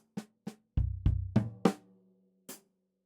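Drum kit groove with ghost notes: a sparse sequence of eight separate hits, hi-hat and snare strokes followed by two booming kick drum hits, a floor tom, an accent and a closing hi-hat, played alone with clear gaps between strokes.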